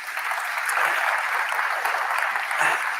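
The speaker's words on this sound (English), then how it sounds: "give Harrison a round of applause" An audience at a Microsoft Build 2023 conference session applauds Harrison from LangChain, a steady, full wash of clapping from a large crowd, loud and continuous throughout.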